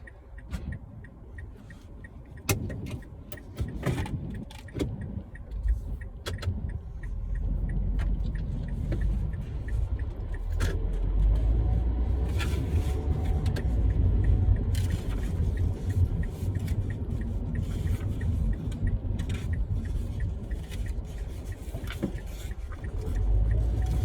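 A car setting off during a driving lesson: the engine rises from a low idle into a steady, growing road rumble, with scattered ticks and clicks along the way. No talk is heard.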